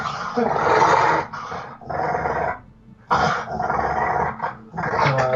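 A dog growls close by in long rumbling bursts separated by short pauses, loud and throaty, with a few yips mixed in.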